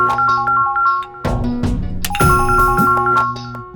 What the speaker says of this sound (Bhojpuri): अरे हमरा व्हाट्सएप कॉल करता।